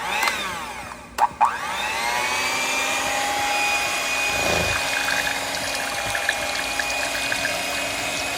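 An electric mixer whisks the cream base for an ice cream cake, running as a steady close whir after a couple of brief clunks, starting on low, with no talking.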